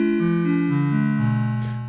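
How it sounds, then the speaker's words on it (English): Casio Casiotone 405 keyboard on its clarinet preset with sustain engaged, a reedy tone playing a short descending run of smoothly connected notes, close and alone. "Next, we're going to go to the clarinet, which you might recall sounds like this."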